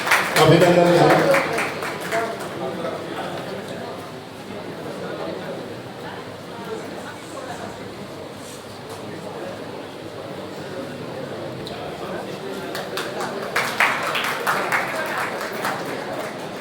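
An audience at a teachers' district conference in Udaipur, Rajasthan claps in a hall, with a burst at the start, a steady wash of applause and crowd noise, and another swell near the end, while a voice speaks over it.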